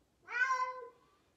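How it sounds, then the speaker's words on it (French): A single cat meow, clear and close, rising then slowly falling over about a second in an otherwise quiet room. "Pauvre petit chat."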